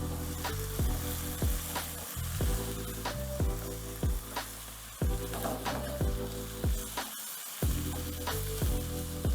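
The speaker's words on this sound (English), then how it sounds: "Time to add in the vinegar and the soy sauce and continue to mix." Beef lomo saltado sizzles loudly in a hot pan after vinegar and soy sauce are added, with a steady frying hiss and repeated scraping stirs at a regular rhythm, close up and without speech.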